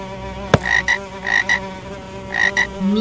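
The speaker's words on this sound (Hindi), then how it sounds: "मीम से मेंढक." A frog croaks in short paired bursts, three clusters spread evenly over a few seconds, clear and close against a soft musical bed.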